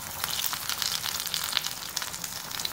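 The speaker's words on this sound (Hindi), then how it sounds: "कटलेट भी इसी तरह फ्राई कर लेंगे" Potato cutlets sizzle steadily in hot oil in a pan, a soft continuous crackle with scattered pops, fairly quiet and close with no talking.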